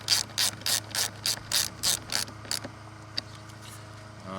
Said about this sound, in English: I need another little socket, very little socket, to actually remove that